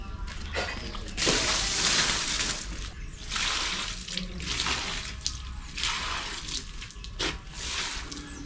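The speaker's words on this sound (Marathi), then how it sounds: "अशा प्रकारे इकडे पाणी घालून झालेलं आहे." Water runs from a tap and splashes onto plants in the morning, coming in several bursts with short pauses between them, close and steady, with no talking.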